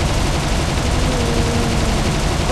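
Continuous dense video-game gunfire, loud and steady throughout, a sustained rattling barrage with no pauses and no voices.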